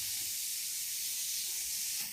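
Motorcycle fuel injector spraying during a cleaning and spray-pattern test, a steady close hiss for about two seconds that cuts off at the end.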